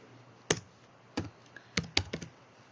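Computer keyboard keys and mouse clicks while entering code, a handful of separate sharp taps spread irregularly, close and fairly quiet with no talking.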